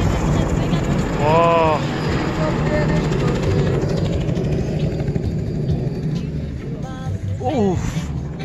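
A helicopter flies over the Alpine mountains near the Jungfrau, a continuous loud rumble and drone filling the whole scene, with excited voices talking and exclaiming over it.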